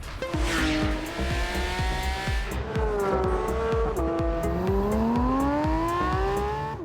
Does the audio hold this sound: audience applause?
no